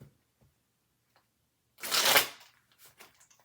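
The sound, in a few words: shuffling tarot cards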